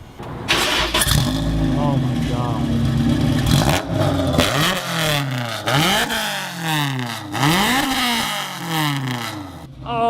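Nissan R35 GTR with a custom straight-pipe exhaust made from a cut-in-half J70 RS unit, revving hard in several loud rising blasts that fall back between pulls, with a person exclaiming over it.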